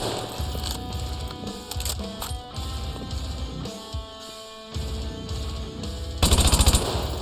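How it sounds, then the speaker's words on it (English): Assault rifle fire in Call of Duty: Modern Warfare 2 rattles in rapid automatic bursts with gaps between strings, loud and close, with a heavier blast near the end. "Using one of the worst assault rifles in the game right now."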